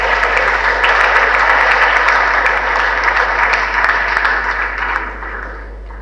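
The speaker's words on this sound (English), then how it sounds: "He deserves another round of applause." Audience applause for the Inspector General of Police at a national security event, a full, even wash of clapping from a large hall, steady and loud over a low hum, easing off near the close.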